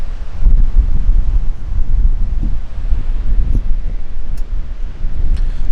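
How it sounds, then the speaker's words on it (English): Strong mountain wind buffets the microphone, a loud, gusty low roar with rustling that surges and eases for several seconds on a high snowy ridge, with no one speaking. "Sorry if there's wind noise, it's a bit windy up here."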